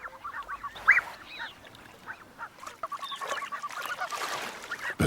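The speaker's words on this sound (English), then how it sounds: "These blue-winged geese have young goslings" Blue-winged geese with young goslings honk and call in the wild in Africa, a mix of near and distant nasal honks scattered throughout, growing busier and louder toward the end.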